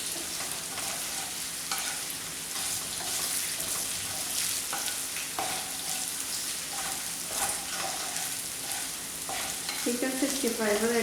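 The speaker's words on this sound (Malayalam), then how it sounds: "നമ്മൾ ചിക്കൻ വറുത്തെടുക്കുമ്പോൾ നോൺ സ്റ്റിക്ക് പാനിൽ വറുക്കുകയാണെങ്കിൽ" Chicken 65 sizzles steadily in a non-stick pan with faint stirring scrapes, a continuous close frying hiss that runs alone without talk.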